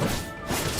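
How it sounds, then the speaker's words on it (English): A massive explosion from a clash between two fighters in the video game Genshin Impact: a single loud, broadband crash that bursts at the start, dips briefly, then swells again over less than a second. "Father and son clash, creating a massive explosion"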